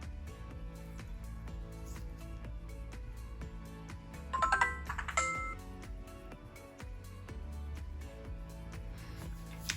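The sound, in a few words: Motorola ROKR EM25 prototype phone powering on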